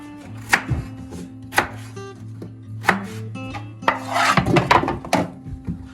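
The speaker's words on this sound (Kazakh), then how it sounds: "сәбіз және пиязды тураймын" A kitchen knife chops carrots and onions on a board, close and crisp: four spaced chops, then a quick flurry of cuts, over a faint steady hum.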